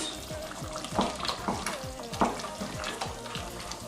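Ofe Nsala, the Igbo soup, is stirred in a pot, making repeated close scraping and sloshing strokes with light clinks over a soft bubbling simmer.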